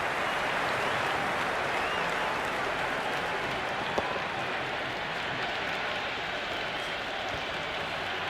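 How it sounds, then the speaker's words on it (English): A stadium crowd in the Cricket 26 video game applauds a boundary four with dense, steady clapping and cheering that holds at an even level for the whole stretch. "The crowd love that one."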